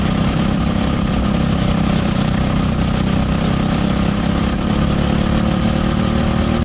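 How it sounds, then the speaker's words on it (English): A child's racing go-kart engine idles nearby with a steady, loud, rough mechanical drone, unbroken for several seconds before cutting off abruptly at the end. "this is my son's go-kart."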